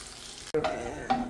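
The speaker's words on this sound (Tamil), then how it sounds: "சிக்கன் இந்த மாதிரி அந்த பக்கம் இந்த பக்கம் நல்லா திருப்பி மறித்து வறுத்துக்கணும்" Chicken pieces fry in a pan for restaurant-style shawai chicken, with sizzling broken by two quick scraping stirs as the pieces are turned, close and short.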